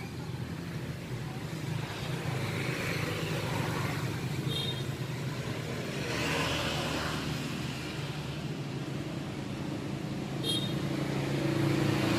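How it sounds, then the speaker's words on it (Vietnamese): Idling engine of a stock original-engine Honda Wave Alpha 100cc motorcycle, a steady low rumble running continuously with a few faint higher clicks over the top, heard up close with no talking. "Hồi qua sẽ nổ máy cho anh em nghe nha."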